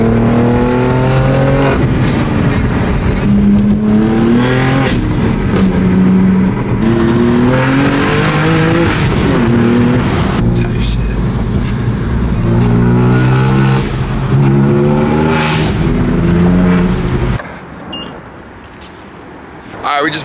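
A BMW engine revs hard and continuously, its pitch climbing and falling through repeated loud sweeps with some tire squeal, then it drops away abruptly near the end.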